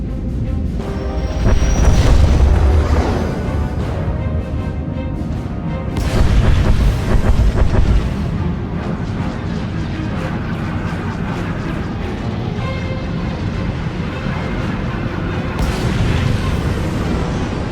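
Heavy booming explosions from a space battle bombardment in the video game Star Wars: The Old Republic, deep blasts repeating every few seconds over a continuous rumbling roar, loud and dense.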